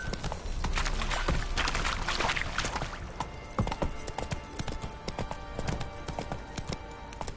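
Horse Roach's hooves clip-clopping in a video game, a steady run of sharp hoof strikes, dense and loud at first and then spacing out into a slower, clearer walking rhythm.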